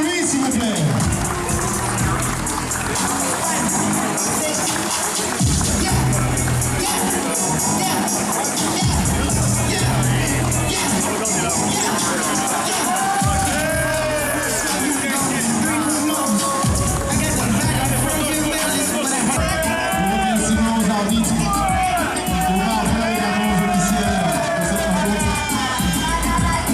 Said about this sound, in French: Une applaudissement pour lui, s'il vous plaît.